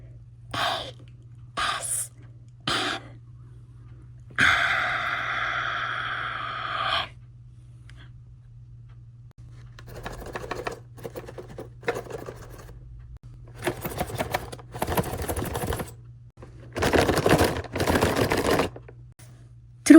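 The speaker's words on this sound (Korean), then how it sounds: "들어보셨죠? 박스 3개가 소리가 전혀 다릅니다." Dimoo Disney keychain blind boxes are shaken one after another in short bursts of close rattling and rubbing, separated by near silence, with some longer and denser shaking passages.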